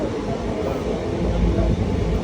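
A passenger train running on a rail journey gives a steady, loud, broadband rumble with rattling undertones that continues without a break throughout.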